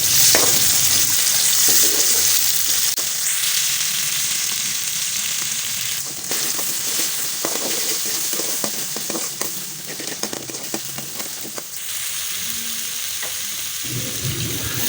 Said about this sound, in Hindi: यहाँ हमने घी थोड़ा सा और ऐड कर लिया। प्याज को अच्छी तरह ब्राउन करेंगे।